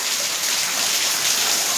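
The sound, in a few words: rain falling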